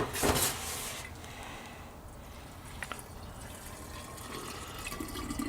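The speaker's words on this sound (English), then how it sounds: "what we're going to do is we're going to rinse them again" Water runs and splashes while bean sprouts are rinsed in a kitchen, a steady wash with a louder burst at the start and a few drips, with no talking.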